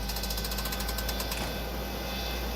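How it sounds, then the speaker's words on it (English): In Microsoft Flight Simulator, the engine of a Boeing 727-200F spools up from idle. A fluttering, pulsing whine settles into a steady, loud, continuous drone. "And you hear the engine kick up."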